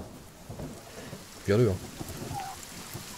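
Steady rain in the survival game The Forest, an even hiss that runs through the whole stretch, with a short burst of talk over it partway through.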